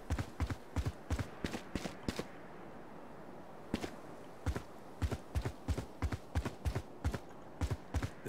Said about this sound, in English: Walk slowly so it doesn't detect your footsteps.